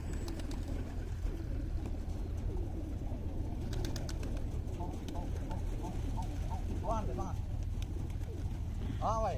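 Pigeons coo repeatedly in soft, rounded calls over steady background noise, with a few closer coos toward the end.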